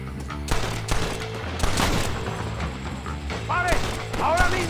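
Rapid gunfire bursts from a Red Dead Redemption shootout, loud and close with repeated heavy shots in clusters, mixed with game music and voices talking over the action.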